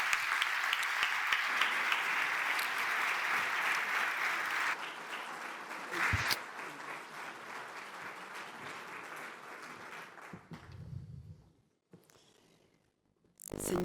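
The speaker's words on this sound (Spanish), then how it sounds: "pido un fuerte aplauso para Ingrid Betancourt" Audience applause in a conference hall greeting Ingrid Betancourt as she takes the stage, a dense steady clapping that thins out and fades toward the end with a few scattered claps.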